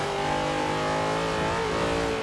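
A car engine holds a steady high whine with shifting pitch as it drives and revs in the racing game Forza Horizon 4, continuous and loud with no talking.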